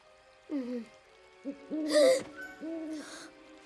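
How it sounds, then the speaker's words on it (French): An owl hoots in a series of short, wavering calls, some doubled, with brief airy breaths between them, fairly close and clear. "Bigfoot est connu pour ses cris de hibou."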